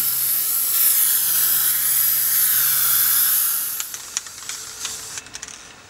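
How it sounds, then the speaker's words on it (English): A long, steady hiss of PlastiKote spray paint from a can, loud and close for several seconds, then it stops and a few light clicks and taps follow. "Now that I've done that, I'm going to spray paint it,"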